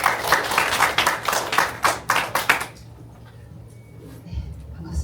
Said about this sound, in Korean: 하나님께 먼저 감사와 영광의 박수를 올려드립시다